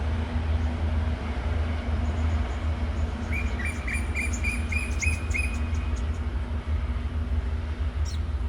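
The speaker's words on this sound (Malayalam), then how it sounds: "അങ്ങനെ ആ ഒരു വണ്ടി ഇതാ പോയി" A KTM Intercity train pulls away at Gemas, Malaysia, as a steady low rumble, with insects chirring and birds calling over it.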